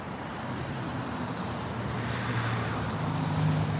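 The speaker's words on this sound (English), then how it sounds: "Just wait for the traffic to abate." Road traffic passing on a street near a waterfront at night, a steady, continuous roar of vehicles that swells slightly toward the end, with no voices.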